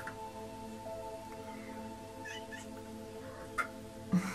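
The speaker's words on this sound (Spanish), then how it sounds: "Mi gatita." A cat meows softly in a quiet room, two short calls near the end, the second one louder, with a steady low hum running underneath throughout.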